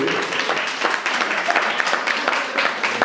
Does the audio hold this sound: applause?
yes